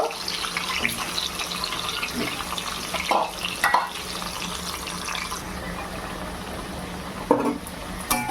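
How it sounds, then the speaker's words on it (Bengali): Potato pieces fry in hot mustard oil in a home kitchen, giving a steady close hiss and crackle of sizzling with a few sharper pops and spoon knocks along the way. "তেলটা গরম হয়ে গেছে, এর মধ্যে প্রথমে লাল লাল করে আলুগুলোকে ভেজে নিই"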